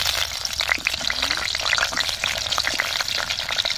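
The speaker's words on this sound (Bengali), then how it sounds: "কড়াইতে সরষের তেল দিয়ে আলু আর কপিগুলো ভেজে নেব।" Potatoes and kohlrabi fry in mustard oil in a wok on a stove, for a chicken curry. The sizzle is dense and crackling and carries on without pause for the whole stretch, close and fairly loud.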